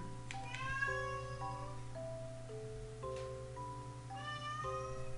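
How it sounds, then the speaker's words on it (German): A cat meows and whines in several drawn-out, wavering cries over a steady low background hum, with no talking. "Ja, meine Katze jammert."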